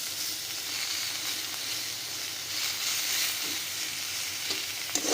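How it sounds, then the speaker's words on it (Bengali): Gima greens stir-fried in a pan make a steady hissing sizzle, broken by occasional scrapes and clinks of a utensil near the end, quiet and close, with no voices. "এই যে দারুণভাবে ভাজা হয়ে গেছে।"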